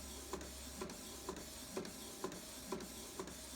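A Canon IX6850 inkjet printer, its heads freshly cleaned, prints an edible photo on matte coated, low quality settings, with a steady whirring drone and regular soft clunks of the print head about every half second, close and fairly quiet.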